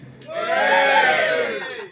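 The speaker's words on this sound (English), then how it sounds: "Give me a cheer if you're drinking." A crowd at a spoken word poetry performance cheers and shouts in one loud burst that swells and then fades away over two seconds.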